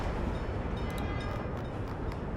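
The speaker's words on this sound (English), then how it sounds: "There's another big train coming." A big train passes in the city-building game Workers & Resources, a steady loud rumble and rolling roar with faint higher clatter, continuous throughout with no talk.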